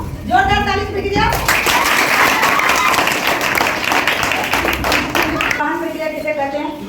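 Children in a Class 7 classroom break into loud, sustained clapping for about four seconds, with a teacher's voice heard just before and after.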